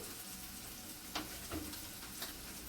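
Spices sizzle and fry in a pan as ginger garlic paste goes in, joining garam masala and coriander powder. A steady low sizzle carries a few sharper crackling pops, with no talk.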